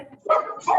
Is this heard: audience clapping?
no